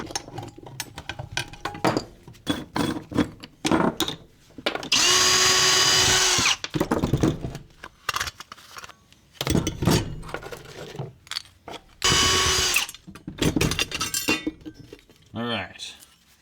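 A power drill spins out screws during scrap metal processing in short whirring bursts, with metal parts clinking and rattling between runs and some talk in the background.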